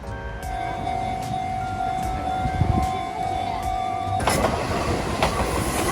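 A tram rumbling and clacking on rails near Kamakura-Kokomae Station in Kamakura, Japan, with a steady tonal hum, then a louder rush of noise as it draws close.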